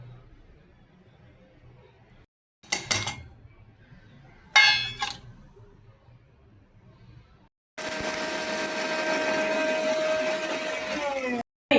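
Mixer grinder powdering roasted mustard seeds and fenugreek, a few short clinking bursts of jar handling, then a loud steady whirring grind lasting several seconds.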